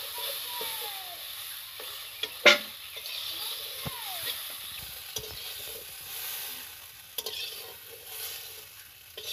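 Crab frying in a pan makes a soft continuous sizzle, with a sharp clatter of utensils early on and scattered scraping touches, moderately quiet and close.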